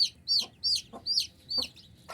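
A hen clucks close by in a short run of about five evenly spaced, sharp calls, each with a rising note, heard alone against quiet background noise.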